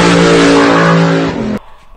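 A bush plane's engine roars at full throttle, loud and close, with a strong steady drone. It fades slightly and then cuts off sharply after about a second and a half.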